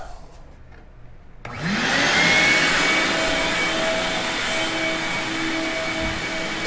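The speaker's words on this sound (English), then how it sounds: "Start this vacuum up." A vacuum cleaner, used aboard a jon boat with a homemade console, kicks on with a rising whine and then settles into a loud, steady roar that continues alone.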